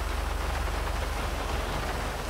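Steady, dense rainfall in a London street setting within GTA 5, a constant loud wash of drops with no breaks and no talk.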